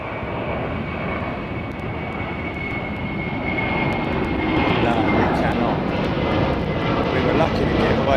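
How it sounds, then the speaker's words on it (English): An Iberia jet airliner departs Heathrow with a loud, sustained engine roar that builds slightly as it climbs, heard alone and close with a steady broadband rumble. "It's another Iberia jet"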